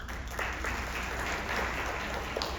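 An audience at a Southern California community event claps steadily, a dense and sustained burst of applause close by and loud, with no other sound standing out.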